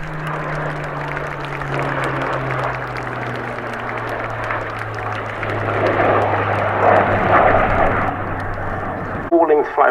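Eurofighter Typhoon and a Spitfire flying a joint display at the RAF Cosford Airshow, a loud, steady engine roar that swells and holds, under a commentator's voice over the public address.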